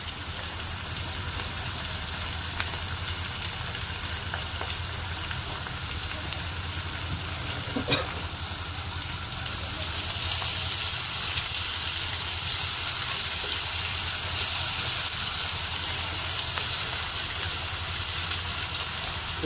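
Garlic sautés in a pan for a fenugreek curry with a steady rain-like hiss. A brief clatter sounds partway through, then the sizzle grows louder and brighter for the rest of the clip.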